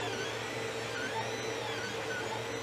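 A 3D printer runs steadily on a screw pump part, giving a continuous mechanical whir with faint shifting motor tones and no talk.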